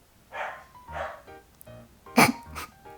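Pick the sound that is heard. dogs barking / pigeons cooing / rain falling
dogs barking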